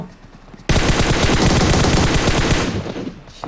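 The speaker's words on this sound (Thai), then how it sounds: "ตัวนี้แหละมันยิงเรา" Sudden loud burst of sustained automatic enemy gunfire in a video game, a dense rapid rattle that cuts in abruptly and holds for nearly three seconds before tapering off.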